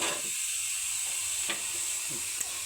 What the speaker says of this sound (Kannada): ಫ್ರೈ ಆಯ್ತು ನೋಡ್ರಿ ಈಗ